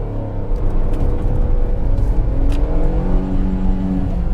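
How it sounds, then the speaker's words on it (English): A car engine revs loud and close in first gear to about 4,500 RPM, pitch rising and holding as the motor is pushed, steady and unbroken with no talking. "revving the motor"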